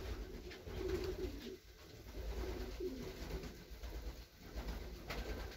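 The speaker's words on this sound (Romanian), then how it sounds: "Mă întreba cineva care e cel mai bătrân porumbel de aici." Racing pigeons coo in a loft with repeated low, throaty rolling calls in close succession, fairly near, over a faint background hum.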